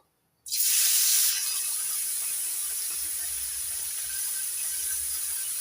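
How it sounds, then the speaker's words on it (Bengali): A sudden loud hiss bursts in as small mola fish hit hot mustard oil, then settles into a steady, bright sizzle that continues throughout. "এবার মরলা মাছগুলো ভেজে নেবো"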